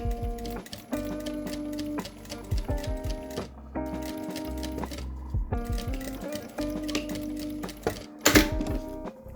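A sewing machine stitches a seam on a half-moon zippered pouch, running in rapid mechanical bursts with short pauses between them, close and clear with no talk.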